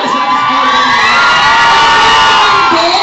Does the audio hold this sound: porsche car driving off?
no